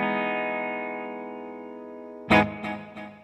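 Electric guitar played through a Cuvave Cube Baby pedal with delay and reverb: a sustained chord rings and slowly decays, then several sharp strums cut in with echoing tails.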